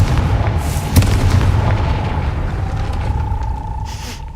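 In Hogwarts Legacy, a Confringo blasting spell hits a gate with one loud, close boom that rumbles out over the next few seconds with no voice over it.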